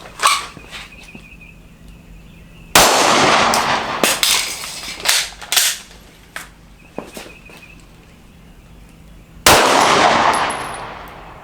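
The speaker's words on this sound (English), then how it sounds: "Nice, good solid impact on that 25-yard shot" Handgun shots fired at a 25-yard target during braced strong- and support-side training, two sharp loud reports with ringing tails several seconds apart, scattered footsteps and clanks of gear between them.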